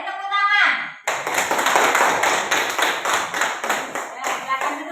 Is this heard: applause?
yes